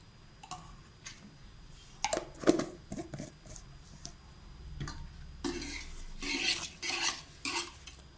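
Ghee poured into a pan and stirred while making mutta mittai, soft scraping and clinking strokes with a faint sizzle, irregular and close, growing busier toward the end.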